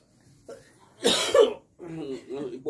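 A single harsh cough bursts out close to the microphone in a home kitchen while lumpia is being cooked, with a softer throat sound just before it and a person speaking right after.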